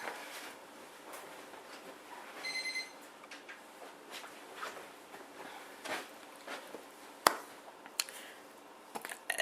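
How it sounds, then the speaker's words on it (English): A daily noon alarm goes off indoors. A brief, thin, high-pitched electronic beeping tone rings out against a faint background of scattered clicks and taps. "I have an annoying alarm that goes off at 12 p.m. every single fucking day"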